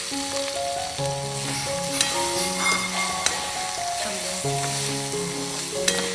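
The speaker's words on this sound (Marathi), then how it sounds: "त्याच्यासोबतच थोडा बिर्याणी मसाला मिक्स करून घेऊया" Leftover rice and biryani masala sizzle in a hot pan with continuous stirring close by. Background music plays over the frying.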